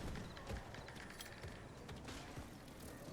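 Horse hooves clip-clop at a gallop in Diablo IV, a steady run of muffled thuds under a busy, noisy game backdrop with no clear talk.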